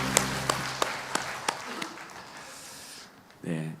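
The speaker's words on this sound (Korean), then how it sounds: "하나님께 박수를" A church congregation claps in a Korean worship service, a few sharp rhythmic claps at first dissolving into a dense, moderate wash of applause that fades out, followed by a brief voice.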